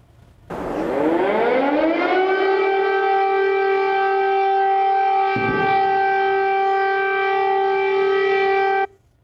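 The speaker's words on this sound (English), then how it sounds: "sirens going off in Ukraine" A loud air raid siren in Ukraine winds up and holds a steady wailing tone for several seconds before cutting off, sounding alone with no talk.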